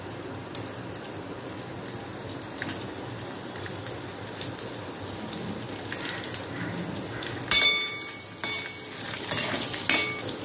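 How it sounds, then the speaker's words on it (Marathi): Ginger and garlic sautéing in a pan give a soft, steady sizzle, with a few louder stirring scrapes near the end, close but fairly quiet. "खूप जास्त परतवून नाही घ्यायचे. आलं लसूण,"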